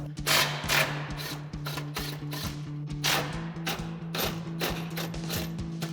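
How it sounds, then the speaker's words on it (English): Impact wrench with a 15 mm socket removing bumper mounting bolts on a 2019-2024 RAM 2500 pickup, heard as repeated rapid rattling bursts over a steady mechanical hum, close and fairly loud, with no talk. "So we've got our 15 mil socket on our impact. We'll pop those off."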